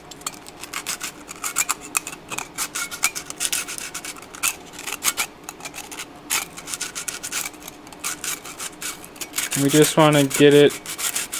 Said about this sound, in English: we're going to need to sand this a little bit, this copper here on the back